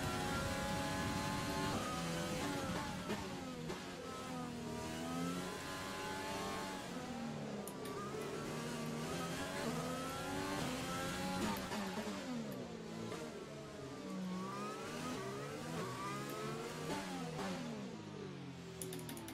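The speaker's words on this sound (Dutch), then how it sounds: "Twee Renaults driftend over het circuit." Two Renault Formula 1 cars drift around the Monaco circuit in the F1 2020 racing game, engines revving and wailing loudly and continuously with rising and falling pitch sweeps, no speech over the engine noise.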